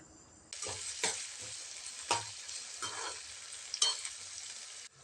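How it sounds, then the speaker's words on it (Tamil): Chopped onions sauté in hot oil in a pan, a close sizzle starting suddenly after a short quiet moment, broken by several sharp scraping stirs before it stops abruptly. "எண்ணெய் சூடானதும் அதில் கட் பண்ணி வச்சுருக்கக்கூடிய வெங்காயம் சேர்த்துக்கலாம் வெங்காயம் சேர்த்துட்டு இதை வந்து நல்லா ஒரு நிமிஷத்துக்கு வதக்கி விட்டுக்கலாம்"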